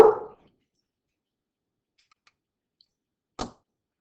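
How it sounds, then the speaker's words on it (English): A dog barks indoors in a quiet room, one short bark at the start and another single bark a few seconds later, with near silence between. "Oops, that's my dog, so sorry about that"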